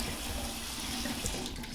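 Water runs in a steady, continuous stream as cooked beans drain in a colander over a sink, a close, even splashing that holds unchanged throughout.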